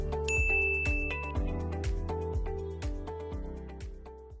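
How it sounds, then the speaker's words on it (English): A bright notification-bell sound effect rings out over a repeating musical chime pattern, clear and fairly loud with no speech. "hit the notification bell"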